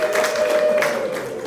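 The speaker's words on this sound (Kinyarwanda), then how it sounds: "Munyemerere tubashimire mu mashyi ibyanyabyo n'impundu nzumve z'ababyeyi" Wedding guests applaud at a ceremony: a steady, dense patter of clapping from a crowd, fairly loud and continuous throughout, with no clear talk over it.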